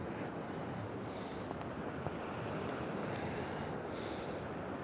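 Big ocean rollers breaking along a driftwood shore, a continuous broad roar of surf mixed with wind buffeting the microphone, steady and fairly loud with no voices.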